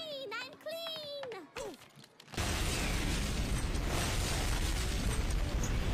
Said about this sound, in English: How many times have we seen that exact same explosion footage?